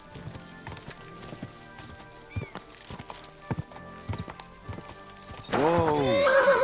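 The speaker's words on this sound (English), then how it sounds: "Luckiest horse I've seen in my life." Hooves clip-clop along at a steady pace in Kingdom Come Deliverance 2, then a loud, nearby horse whinny rises and falls near the end, with voices in the background.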